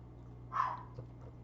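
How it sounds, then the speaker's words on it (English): One short dog bark sounds at a moderate distance indoors against a low steady hum, then the room goes quiet. "As you can hear, my dog is barking."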